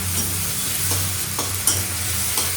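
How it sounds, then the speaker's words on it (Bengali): Half a tomato frying in hot oil, a dense, constant close sizzle with a low hum underneath and a few faint pops. "টমেটোটাকে জাস্ট একটু ভেজে নিব তেলে"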